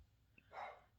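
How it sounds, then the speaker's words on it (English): A dog barks once, moderately loud, indoors during a chalk paint craft session, sounding slightly distant and reacting to someone outside; no one speaks over it. "Sorry if you hear my dog barking."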